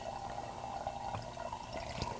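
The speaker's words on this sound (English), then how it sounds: "I'm worried about oxygenating it because I'm pouring it like this" Homemade rice sake poured in a steady, continuous liquid stream, with a low gurgle and a few splashes close up throughout, and no voices.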